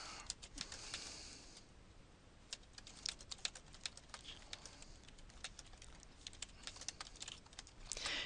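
Keys on a computer keyboard tapped in an irregular run of quick, light clicks, fairly close but quiet, with a brief denser flurry near the start and no voices.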